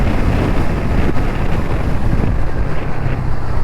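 Loud, constant wind buffeting roars against the microphone on a Ronin 225 motorcycle at about 70–75 km/h, a heavy rushing blast of air with no break and no voices.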